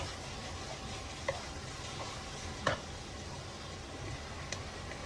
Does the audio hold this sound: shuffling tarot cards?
no